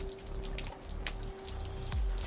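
Water flushes through a Sea-Doo jet ski on a garden hose, a close, steady splashing and dripping rush with a low rumble swelling near the end.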